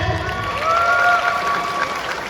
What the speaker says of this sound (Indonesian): Sekali lagi teman-teman, tepuk tangan yang meriah.